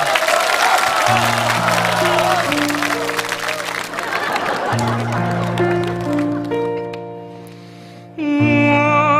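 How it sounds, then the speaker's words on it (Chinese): An audience at a stage comedy double-act applauds in a dense burst of clapping, mixed with loud backing music that carries on as the clapping thins out. "掌声就起来"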